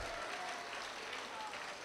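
College audience applauding, a steady, dense wash of clapping heard at a distance and fairly faint throughout.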